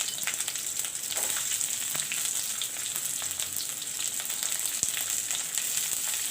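Onion and green chilies fry in oil for Maggi noodles, a steady bright sizzle with occasional pops and light stirring clicks, close and continuous with no talking.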